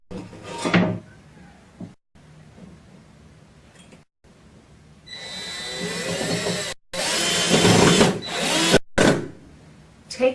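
A power drill drives a screw through a trim ring kit's top bracket tab into a wall, in bursts of high whining spin between quieter handling knocks and pauses, close and loud with no talk.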